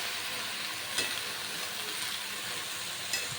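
Spinach goes into a hot pan with fish head and sizzles at low volume, a steady soft frying hiss with a couple of faint stirring clicks.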